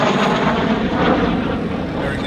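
Ex-RAAF CAC Avon Sabre A94-352 jet fighter at an airshow over Yarram, a loud continuous roar of the jet engine filling the air steadily throughout.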